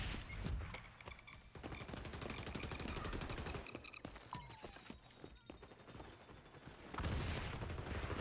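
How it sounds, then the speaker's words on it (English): Rapid pistol gunshots fire in a Call of Duty game, dense cracking shots in quick bursts over a busy, noisy battle mix, fairly loud and close with brief pauses between volleys. "The pistol sounds awesome."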